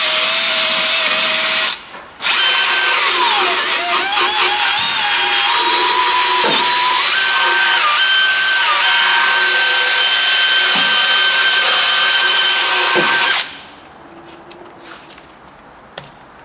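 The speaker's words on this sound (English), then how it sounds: "so I've got the brush on the drill. Give this a hit now." A wire brush spun on a power drill strips paint from a 1932 Ford roadster hot rod, a loud abrasive whirring grind held for about eleven seconds after a brief pause, then cutting off to near quiet.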